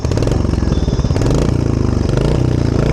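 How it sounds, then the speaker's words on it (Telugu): A stock Royal Enfield Hunter 350 single-cylinder motorcycle idles close by, its exhaust giving a loud, steady thumping beat with no other sounds over it. "సౌండ్ ఒకసారి వినిపిస్తాం మీకు, ఇది స్టాక్ బైక్ కాబట్టి ఒకసారి చూడండి సౌండ్"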